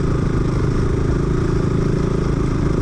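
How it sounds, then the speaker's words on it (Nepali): A motorcycle carrying two riders on a trip around Jhalyakot in Gulmi, Nepal, hums with a loud, steady engine drone and rushing wind right at the microphone, with no voices. "मेरो यो बाइकमा चाहिँ हामी 2 जना हो जानको"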